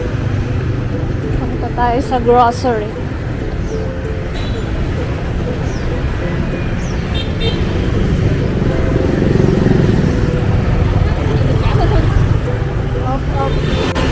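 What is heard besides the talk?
motorbike traffic on a street in Vietnam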